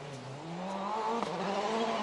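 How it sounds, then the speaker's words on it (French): A Ford M-Sport rally car driven hard on a dry tarmac stage at the Monte Carlo Rally, engine note rising steadily as it accelerates close by, with a brief gearshift dip midway and no talking. "Vraiment à l'attaque sur cette Ford de l'équipe M-Sport Qatar."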